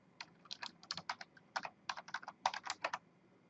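Fingers type login credentials on a computer keyboard in quick, uneven bursts of crisp key clicks, close and fairly quiet, with short pauses between clusters and no talking.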